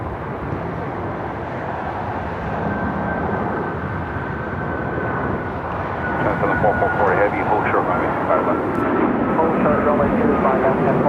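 A jet airliner at Los Angeles LAX airport, likely an Alaska Airlines 737 MAX 9 departing, gives a steady broadband engine roar that swells louder in the second half, with a faint whine, while someone talks over it.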